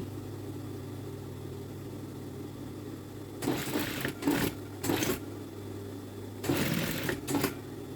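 A sewing machine stitches folded fabric along an existing seam, running in two short bursts of rapid, buzzing stitching with a brief pause between them, fairly close, over a steady low background hum with no talking.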